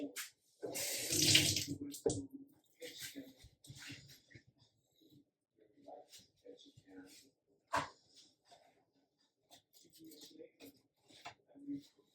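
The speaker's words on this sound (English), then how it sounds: "I'm going to wet my hands a bit." A kitchen tap gushes in a short burst for about a second while hands are wetted during sourdough bread making. A voice then talks quietly in broken phrases, with a few soft clinks in between.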